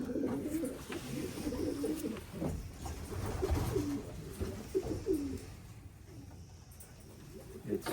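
Pigeons in a pigeon loft give repeated low, throaty coos in rolling phrases, moderately close, over a quiet room hum with a few soft rustles.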